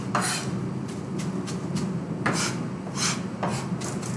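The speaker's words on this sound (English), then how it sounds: "you shouldn't really have stalks when you're chopping parsley." A sharp knife chops parsley on a board, giving a run of crisp, irregular scraping taps, some close together and some spaced, over a steady kitchen background with no talk.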